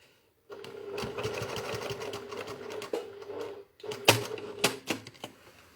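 A sewing machine stitches a holding seam on a fabric bottle-carrier bag, running in a steady whirring rattle after a quiet start, then stopping and restarting in short bursts with sharp clicks near the end.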